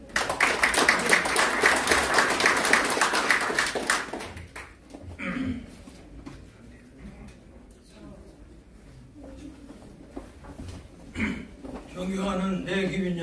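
Dense crowd applause at a Korean civic organization's founding ceremony fills the first few seconds, then fades as people speak; scattered claps return briefly toward the end.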